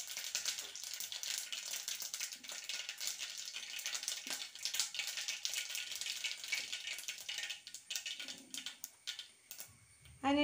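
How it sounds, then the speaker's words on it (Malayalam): Mustard seeds crackle and sizzle in hot oil in a pan for a bitter gourd curry, a steady dense spattering hiss with small pops, close and fairly quiet, a clank near the end. "അതിലേക്ക് കടുക് ഇട്ട് കൊടുക്കാം."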